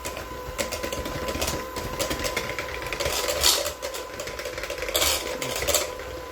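An electric mixer creams two sticks of butter for lemon pound cake batter, a steady, busy whir with light rattling and clatter throughout and no voices.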